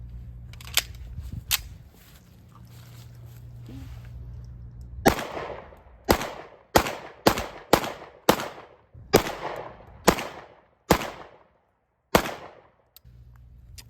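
A Springfield Prodigy pistol fires about a dozen crisp, loud shots, first a couple spaced apart, then a fast irregular string, each one cracking sharply with a short ringing tail.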